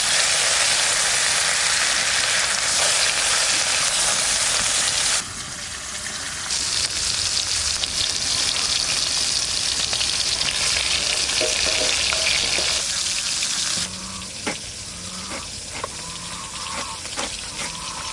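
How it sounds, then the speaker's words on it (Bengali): Rani Vola fish fries in mustard oil in a hot kadai, a loud, dense, continuous sizzle that drops briefly partway through, then settles into a quieter crackle with occasional utensil clinks. "মাছটা ভেজে নিচ্ছি"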